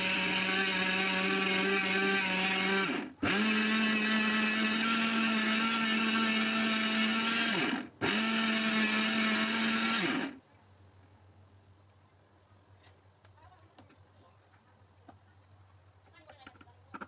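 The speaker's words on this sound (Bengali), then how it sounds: "চাল নিয়ে আমি ব্লেন্ড করে নিয়েছি।" An electric blender grinds raw rice into rice flour with a loud, steady whirring motor roar, briefly dipping twice as it pauses and restarts, then cutting off into quiet room noise with a low hum.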